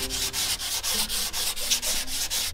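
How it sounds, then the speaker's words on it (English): Hardened body filler on a tow truck panel is hand-sanded with 80 grit sandpaper in steady, rhythmic back-and-forth rasping strokes, close and alone. "I'm gonna get it all cut down with some 80 grit."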